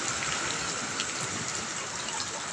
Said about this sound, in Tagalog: Lakas na ng agos.